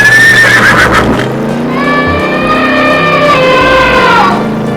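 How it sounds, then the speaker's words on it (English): A horse gives a loud, close whinny that rises, wavers and trails off over several seconds, with a steady low engine-like hum beneath it. "Horse."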